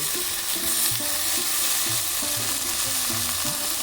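Fish sizzles steadily in a pan as eggplant joins it, a continuous close frying hiss running under a soft tonal melody, with no talking.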